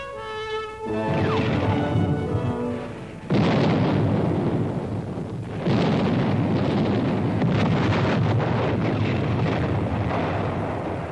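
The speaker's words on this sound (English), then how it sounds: "After a heavy artillery barrage, General Montgomery surprised the Germans by reversing blitzkrieg tactics and sending his infantry in first." Heavy artillery barrage at El Alamein in 1942, heard as sustained rumbling blasts and booming roar in two long surges, loud and continuous with wind-like noise, no voices.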